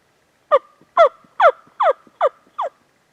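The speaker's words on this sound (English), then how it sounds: "We got our first gobble, though." Wild turkey on public land in North Georgia, six loud harmonic calls at a steady pace, each a falling sweep, evenly spaced across about two seconds.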